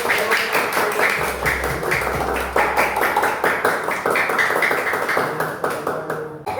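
A room full of people clapping together, a dense, lively burst of hand claps that holds steady for several seconds before thinning out at the end, with no voices over it.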